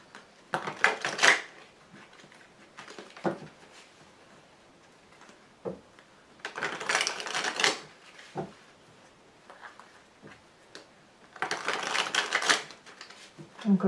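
Tarot cards shuffled and laid out close by, in three separate bursts of crisp riffling and papery slapping with quiet pauses between them.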